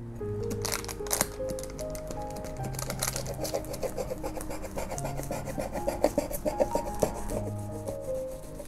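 A knife cuts along the edges of a cherry yeast butter cake, making soft, repeated rasping strokes, with sustained tonal background music underneath.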